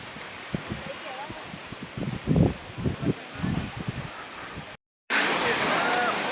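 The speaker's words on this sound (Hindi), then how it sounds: "वाटरफॉल देखो" A broad, steady rush of falling water from the Vasudhara waterfall in the Himalayan mountains, heard at a distance behind footsteps and a voice, then louder and fuller after a brief cut.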